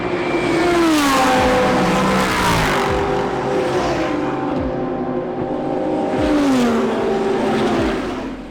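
Race cars lapping the Slovakia Ring motor racing circuit during a Swift Cup race weekend, loud engines roaring and revving continuously as cars pass close by in sequence, pitch rising and falling with gear changes, no talking.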